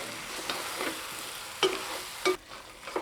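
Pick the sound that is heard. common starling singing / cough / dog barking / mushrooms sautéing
mushrooms sautéing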